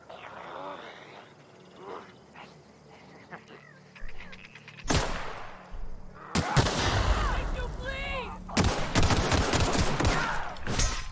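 Gunfire in The Outer Worlds, quiet at first and then building into loud, dense bursts of shots and impacts that continue to the end, with game sounds mixed in.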